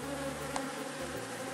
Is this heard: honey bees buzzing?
yes